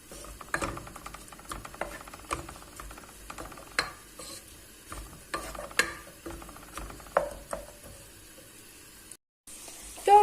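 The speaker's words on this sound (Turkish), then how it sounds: "Gördüğünüz gibi soğanlarımız yavaş yavaş kavruluyor." Onions fry in oil in a pan for a minced meat pasta dish and are stirred, with clattering spoon-on-pan scrapes and knocks over a faint, steady sizzle, close and fairly quiet.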